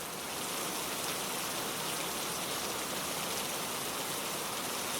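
Rain falling steadily, a dense, even hiss of drops on surfaces that stays constant and fairly loud from start to finish with no voices.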